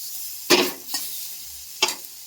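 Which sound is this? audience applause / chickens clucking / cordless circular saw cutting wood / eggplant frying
eggplant frying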